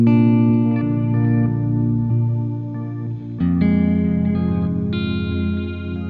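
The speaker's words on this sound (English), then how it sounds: "It's like a shimmer echo." An electric guitar played through a shimmer echo pedal with a bouncing octave delay, sustained chords ringing and blooming into layered, shimmering repeats, loud and close with no talking.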